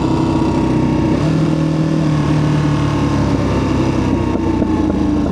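A Ducati Panigale V2 twin motorcycle exhaust drones steadily while riding, a loud continuous engine rumble mixed with wind noise and no rise or fall in pitch.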